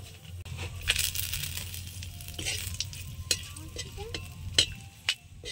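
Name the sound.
dried chili, cinnamon, clove, cardamom tempering in mustard oil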